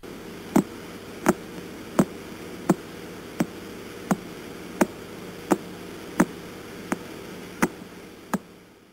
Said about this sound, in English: That's the sound of what they call a pulsar